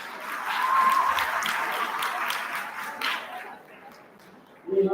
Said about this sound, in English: A round of applause for our participants.